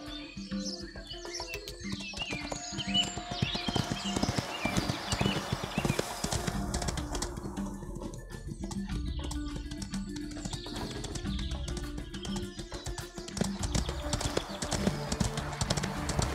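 Horse hooves gallop at a steady, fast clip-clop during a ghost race in the video game Ostwind. The hoofbeats stay continuous and fairly loud over background game music, with a few bird chirps.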